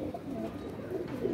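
Flying pigeons coo softly, a low murmuring call that is faint and close, with quiet ambient noise behind it.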